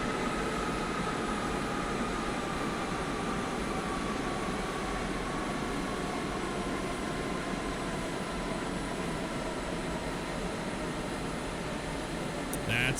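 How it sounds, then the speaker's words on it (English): A Boeing 727 in the X-Plane 11 flight simulator spools down while its APU runs, a steady broadband engine roar with a faint whining tone, continuous and unchanging throughout. "You hear the engines winding down now and the sound of the APU coming through."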